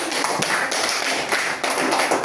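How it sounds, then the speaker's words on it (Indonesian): A classroom of students claps for a student group after its presentation, a dense stretch of many hands patting close by, fairly steady with small surges and no voices over it. "tepuk tangan dulu untuk kelompok dari"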